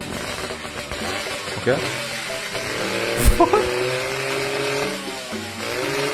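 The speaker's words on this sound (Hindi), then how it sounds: "okay this is a 360 degree exhaust" A motorcycle fitted with a 360-degree exhaust runs nearby with a rough engine note and short revs. People talk over it.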